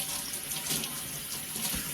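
Tap water runs steadily into a sink while shampoo is rinsed out of a wig, a close, continuous splashing hiss with no talking.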